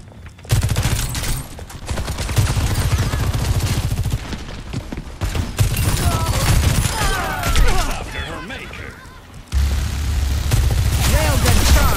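Railgun fire from the video game Overwatch 2 rings out in heavy, rapid volleys of loud, close shots. Dense bursts repeat across the whole stretch amid other battle noise.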